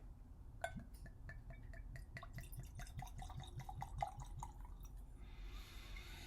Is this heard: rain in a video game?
no